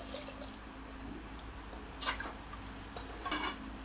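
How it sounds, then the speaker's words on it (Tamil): Water poured into a pot of rice and moong dal for nonbu kanji porridge, heard as quiet splashing and dripping bursts against a low background hum. "இப்போ தண்ணி ஊற்றிக்கலாம்."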